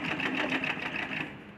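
Continuous rapid whirring stitching of a sewing machine sewing a ladies' pajama, steady and close with a fast rhythmic chatter, no talk.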